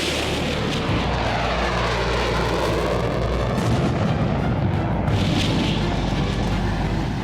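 Military jet aircraft making steep dive bombing runs, a loud continuous roaring rush with booming blasts mixed in, filling the whole stretch without letup.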